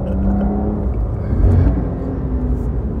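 A 2025 Porsche 911 Carrera accelerates on a road, its engine a steady loud rumble that swells briefly, heard from inside the car.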